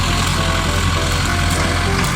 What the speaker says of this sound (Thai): ดูรถไถรถไถคันใหญ่ครับ